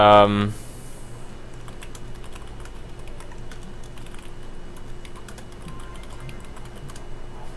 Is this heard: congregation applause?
no